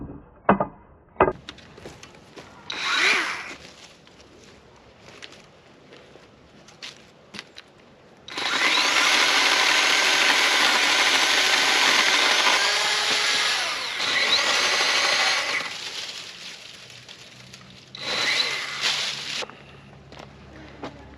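A Kobalt pole saw cutting wood, its motor revving into a loud, sustained buzzing cut of several seconds, then a shorter later burst, with quiet handling noises and brief sounds between.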